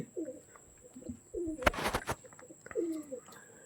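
Pigeon cooing up close, with several soft rolling coos repeated in a slow rhythm and a brief burst of rustling noise partway through.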